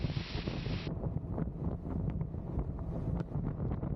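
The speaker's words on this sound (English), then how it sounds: "Man, it's nice and windy out here too." Steady, loud wind buffeting roars against the microphone while riding a Honda Goldwing motorcycle on a cool morning near Cordova, Tennessee, a continuous low rumble with no talking.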